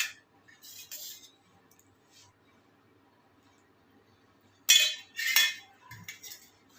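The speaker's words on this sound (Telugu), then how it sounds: "బాగా కలుపుకోండి అన్నీ వేసుకున్న తర్వాత." Mango pickle ingredients with oil are mixed in a bowl, making a few short bursts of metal spoon clinking and scraping with quiet gaps between.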